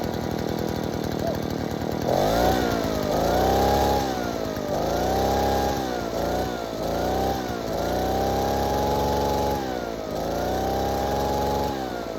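A Poulan PR46BT backpack blower's small two-stroke engine runs after repair work, its buzzing pitch rising and dipping through several throttle blips before settling into a steady idle; loud and close, with no talking.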